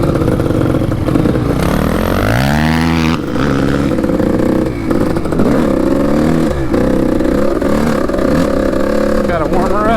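A motorcycle engine, a four-stroke on a small dirt track, revs and rises in pitch while warming up, then holds a loud, steady, rough idle with repeated throttle blips throughout.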